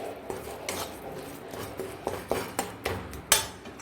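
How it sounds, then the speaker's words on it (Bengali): Chhana, khoya and sugar being mixed by hand in a bowl, giving soft scraping and rubbing with a few sharper clinks and taps against the bowl, growing slightly busier toward the end, close and fairly quiet. "ছানা, খোয়া, চিনি এটাকে খুব ভালো করে মিশিয়ে নিতে হবে বন্ধুরা।"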